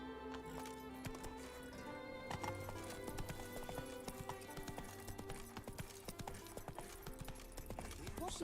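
Roach, Geralt's horse in the video game The Witcher 3, gallops with a steady, fast clip-clop of hooves that runs throughout, close and clear over a low game soundscape.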